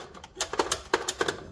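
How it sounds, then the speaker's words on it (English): An old children's toy typewriter being handled in an abandoned house, giving a series of sharp, close mechanical clacks and taps at an irregular rhythm. "Is that a kids typewriter thing?"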